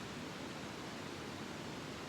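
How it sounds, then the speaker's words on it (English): Wright Creek rushes beside a campsite near mile marker 771 on the Pacific Crest Trail, a soft, steady broadband hiss of flowing water, faint and unbroken, with no voices. "that's Wright Creek. That's what gets to lull me to sleep tonight."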